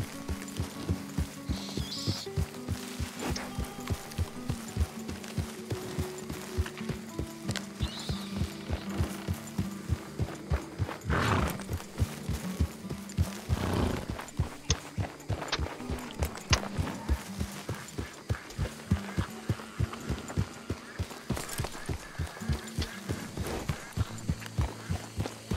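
Horse hooves clip-clop in a steady rhythmic gallop inside the Red Dead Redemption video game, with occasional neighs and snorts, fairly close and continuous, while a voice talks faintly underneath.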